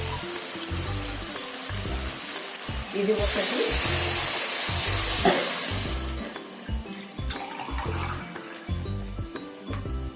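Water is poured from a glass into a hot cooking pot while making semiya (vermicelli), giving a loud hissing splash midway that fades back under steady rhythmic background music, with a brief spoken voice.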